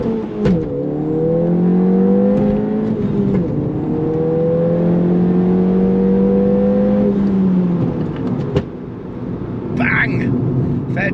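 Tuned Stage 2 Ford Fiesta ST, 230 hp, with a pop-and-bang map, revving hard through rising gears with a droning engine note, then a sharp pop and crackles as it lifts off.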